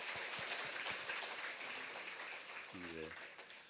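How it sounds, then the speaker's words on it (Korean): A church congregation at a Reformation 500th anniversary lecture claps steadily, with a brief voice rising over the applause near the end. "우리 큰 박수로 하나님께 영광 돌리겠습니다."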